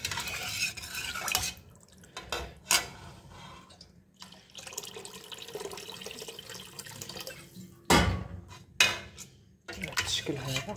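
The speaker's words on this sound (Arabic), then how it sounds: "انا غنضيف دابا الماء باش نمرقها" Water is poured into a pot of Moroccan harira soup with a gushing splash and stirring clatter of utensils against the pot, in bursts with pauses.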